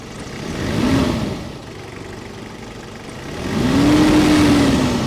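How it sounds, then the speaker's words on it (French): An old car engine with about 300,000 on the clock starts and idles, rising twice into a brief rev before settling back to a steady close running hum. "on entend que le bruit du moteur qui tourne est sain au démarrage"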